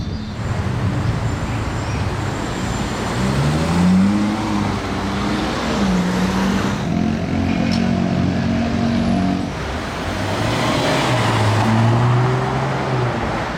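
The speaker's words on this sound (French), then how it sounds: "Et la Revuelto qui mange la route en notre direction." A Lamborghini Revuelto engine revs and surges repeatedly as it drives closer in Monaco, loud and throaty amid steady road and outdoor noise.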